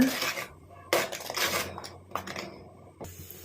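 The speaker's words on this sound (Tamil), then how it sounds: "நல்லா கலந்து கொடுங்க" Metal spoon clinks and scrapes against a pot of jackfruit payasam with jaggery syrup in bursts, with a few pauses between stirring strokes, close up and fairly loud.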